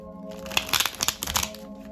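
A deck of tarot cards being shuffled by hand, a quick burst of crisp riffling and papery crackles over about a second, close and moderately loud, with no talking.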